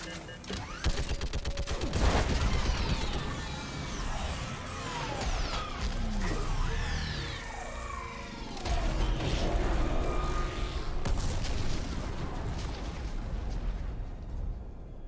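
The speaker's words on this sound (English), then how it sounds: "I need an orbital strike. We're clear! Fire at will!" Orbital strike from a space fleet pounding a live Reaper in Mass Effect 3, a sustained barrage of heavy booms and crashing blasts with sweeping whines, loud and dense throughout with a brief lull near the middle before the barrage resumes.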